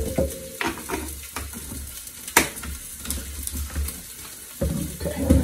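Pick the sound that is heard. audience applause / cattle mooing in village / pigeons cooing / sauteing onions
sauteing onions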